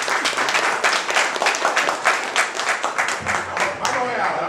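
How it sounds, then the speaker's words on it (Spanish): An audience applauds a participant at a talk, loud dense clapping with a rippling, uneven rhythm that carries steadily throughout, with some voices mixed in. "vamos a darle un aplauso al compañero"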